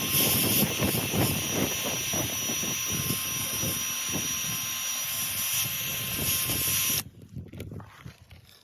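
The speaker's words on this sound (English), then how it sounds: "Take a wire wheel to it," A wire wheel scrubbing brake dust and crud off the wheels of a 1997 Acura CL, a loud continuous high-pitched whirring grind that stops abruptly near the end, leaving quieter handling noises.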